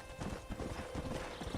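Horse hooves beat in a quick, steady galloping rhythm in the Red Dead Redemption video game, close and clear with a brief whinny, against a soft background.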